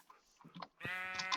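A sheep in the Minecraft video game gives a single short, nasal bleat near the end, following a couple of faint clicks, close and fairly quiet.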